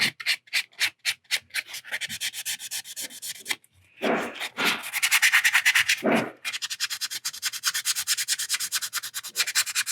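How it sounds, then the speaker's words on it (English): Scuffing a resin Hyaku Shiki model kit part with abrasive to prep it for paint and masking: steady rapid back-and-forth scrubbing strokes, close and loud, with a brief pause and a couple of slower, heavier passes midway. "I'll try to make sure I get those scuffed up really good so they can accept masking"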